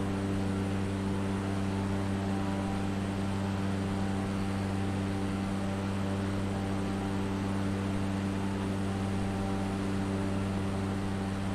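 A bush plane's engine drones steadily in level flight over Iceland, a constant propeller hum with a fixed pitch and even noise from the cabin, unbroken and with no voices.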